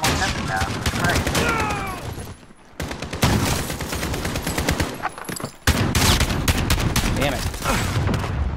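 Sustained gunfire in Call of Duty Modern Warfare, dense rapid automatic bursts crackling loud and close, broken by two brief pauses, with voices talking over the shooting.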